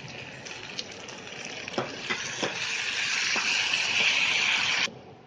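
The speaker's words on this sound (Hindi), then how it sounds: "टमाटर डालकर हमने इसको चला दिया अच्छी तरह।" Potato and eggplant curry sizzles and fries in a pan as tomatoes are stirred in, with scraping spoon strokes over a steady, rising crackle that cuts off near the end.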